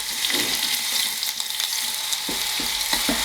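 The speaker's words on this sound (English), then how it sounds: "I'm going to swish the garlic in the oil, and I don't want to burn it." Garlic sizzles steadily in hot oil in a pan for vegetarian saag aloo, a close, continuous crackling fry with bright pops and a few scraping stirs.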